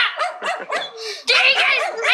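A dog barks close by in a quick series of sharp, excited yips and barks, with a short pause before a louder, denser burst.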